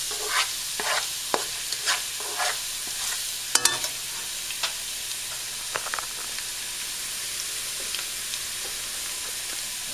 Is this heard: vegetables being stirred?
yes